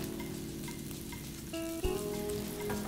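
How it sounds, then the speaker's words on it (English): Mushrooms sautéing in oil in a pan, a soft steady sizzle with a few clinks and a sharp knock partway through, heard alone at low level. "So now I add a little bit more oil in the same pan. Yep. Okay, I'm gonna saute mushrooms, okay?"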